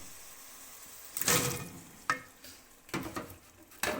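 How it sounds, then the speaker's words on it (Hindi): Chickpeas tipped into a hot pan for channa pulao, sizzling and being stirred in a few loud bursts of frying and scraping, close up with quieter sizzle between. "थोड़ा सा भूनने के बाद हम इसमें शामिल करेंगे चने"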